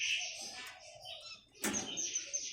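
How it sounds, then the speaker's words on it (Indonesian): A male diamond dove in a window-side cage calls in a few short, soft tonal notes, with a brighter burst near the end, set against faint room noise. "burung diamond dove jantan"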